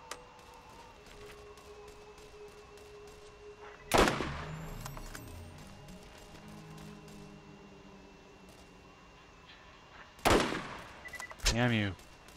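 Gunfire in the video game Borderlands, with two sharp bursts of shots and a rattling run of rapid fire that come over a quiet game background and fade between volleys.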